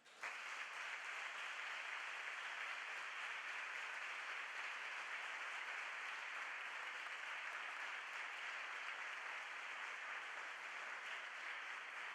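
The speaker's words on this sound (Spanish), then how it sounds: "desde aquí te mandamos un aplauso" Sustained audience applause at a communication congress after a talk, a dense steady wash of many hands clapping for about twelve seconds, loud and even throughout with no talking over it.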